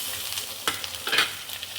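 Tomatoes added to garlic and onion frying in a pan give a faint, soft sizzle with a couple of sharp stirring scrapes and taps, close and brief.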